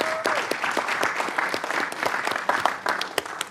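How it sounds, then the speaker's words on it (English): Audience applause at a Wilmington city council meeting: many hands clapping in a lively, steady patter with sharp individual claps standing out, fairly close and continuous without a break. "let's give them all another round of applause as they come up front"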